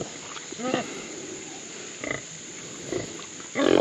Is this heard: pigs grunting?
yes